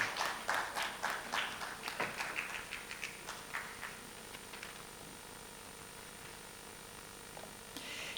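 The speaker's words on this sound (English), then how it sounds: "Can we give a round of applause for Australia?" An audience claps at a women parliamentarians' meeting, a brief burst of applause that fades after a few seconds into quiet room tone.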